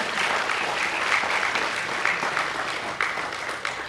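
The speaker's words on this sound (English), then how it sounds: "can I get a round of applause for the vendors as well?" Steady applause from a conference audience at an island sustainability event, a dense continuous patter of many hands clapping throughout, fairly loud and with no talk over it.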